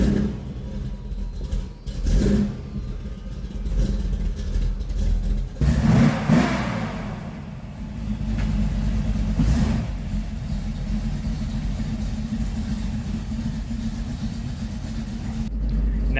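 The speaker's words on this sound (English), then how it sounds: "So I'm gonna pull this truck out and give it a good bath out in the sun." A truck engine rumbles close by as it is driven out of a garage, revving up sharply partway through, then settling into a steady idle-like drone with no voices.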